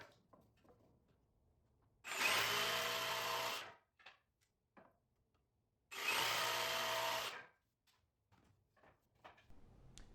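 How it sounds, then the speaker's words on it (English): Two separate drilling passes through a wood board, each a loud steady whirring burst of about a second and a half, separated by quiet handling clicks and taps, close by and without talk. "Then I drilled each of the 2 holes."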